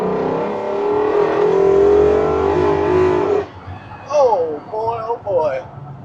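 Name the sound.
Coyote V8 swapped pickup truck accelerating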